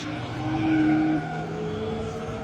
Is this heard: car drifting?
yes